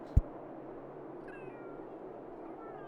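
A cat in the video game Sims 3 gives a faint, brief meow or two over a quiet background hum, with a soft thump near the start.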